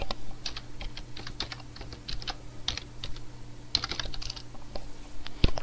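A password typed on a computer keyboard during software setup: a steady run of light, close key clicks in irregular bursts over a faint low hum, with no talking.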